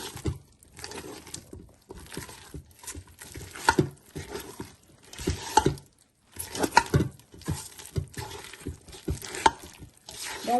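Batter for beef and vegetable fritters is stirred by hand in a bowl, giving wet squishing and scraping strokes in irregular bursts separated by brief pauses, close and fairly quiet with no talking.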